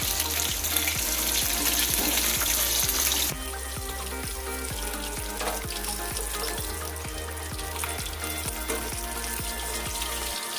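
Rohu fish fries in mustard paste, a loud continuous sizzle with a steady rhythmic ticking beneath it that drops somewhat in level partway through.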